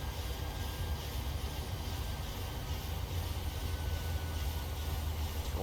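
Boeing 737 engines at climb thrust in the PMDG flight simulator game, a steady, loud broadband jet roar with a deep low rumble that holds evenly throughout, no voices.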